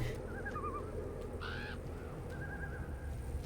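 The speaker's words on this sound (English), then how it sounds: "hearing the crows in the distance" Crows caw faintly in the distance in the Savage Coast area of the video game Secret World Legends, several short wavering calls spread over a steady low ambient rumble.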